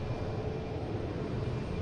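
A JetBlue Airbus A321 takes off at Boston Logan, its engines giving a steady, dense low roar with no break across the short stretch.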